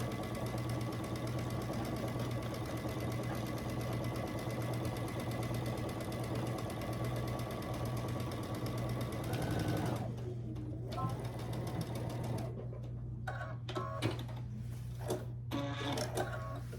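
Sewing machine stitching quilt block pieces with pins pushed back from the needle, a steady mechanical whir running for about ten seconds, then stopping into quieter handling noises and brief clicks.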